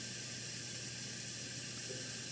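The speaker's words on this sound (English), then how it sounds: "Once the water starts to spray," Steady, faint hiss of water spraying inside a GE Monogram dishwasher with a pinhole defect in its tub, a continuous wash noise with no voices.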